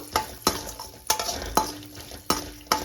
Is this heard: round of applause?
no